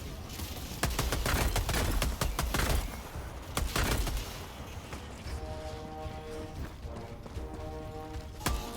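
Gunfire in the video game Helldivers 2, with rapid sharp shots in clustered bursts, then sparser impacts as beeping electronic tones rise and a game effect plays underneath.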